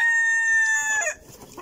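A farmyard rooster crows once, a loud, close, drawn-out call with rising and falling tones that breaks off near the end, followed by faint background rustle.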